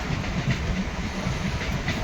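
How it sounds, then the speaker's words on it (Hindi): A Chennai local train overtakes on an Indian railway line, heard as a loud, steady rolling roar with soft rhythmic wheel clatter, close and continuous, with no talk. "ये चेन्नई लोकल ट्रेन ओवरटेक कर गई अपनी गाड़ी को।"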